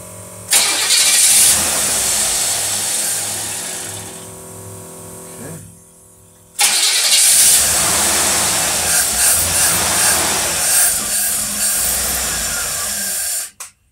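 An old engine with a Rochester single-barrel carburetor runs loudly up close, a rough steady roar that briefly dies away and then restarts, running again until it suddenly cuts off.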